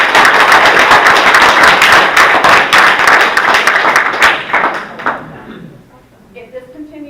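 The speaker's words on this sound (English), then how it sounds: "We have a right to clap our hands" Clapping from the audience at a Hopkinton, NY town board public hearing on a wind turbine project, a dense burst of hands for about five seconds with voices mixed in, then fading out into quieter room noise.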